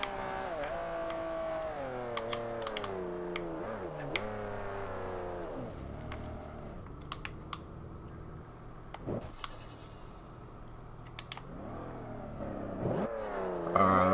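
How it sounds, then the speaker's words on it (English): Ferrari Enzo with a fully built 6-liter V12 in Forza Horizon 2 revs hard through repeated upshifts, its pitch climbing and dropping between gears, then surging loud again near the end, with no talk over it. "Let's go ahead and just see how fast this fully built 6-liter V12 can go."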